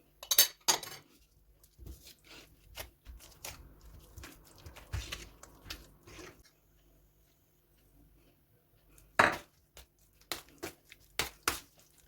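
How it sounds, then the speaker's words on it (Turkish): Boiled potatoes are mashed into a purée and stirred with other ingredients, producing scattered clinks and knocks of a utensil against a bowl, along with soft squelching scrapes, in irregular bursts with a quiet pause midway. "Haşladığımız patateslerimizi güzelce püre haline getiriyoruz ve bütün malzemelerimizi ekleyip karıştırıyoruz"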